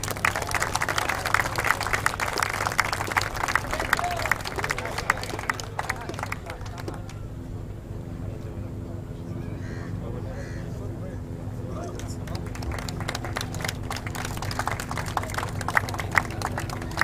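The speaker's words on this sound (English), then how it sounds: "Put your hands together and give him a big round of applause to Nasser Al Bahani." A crowd at the 2019 UIM XCAT Dubai powerboat Grand Prix awards ceremony claps for the best team manager, with applause strong at first, thinning midway, then building again under an announcer's voice.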